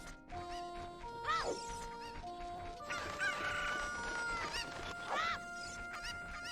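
Video game chickens (Cuccos) clucking and crowing in repeated bursts, with squawking calls over faint background music.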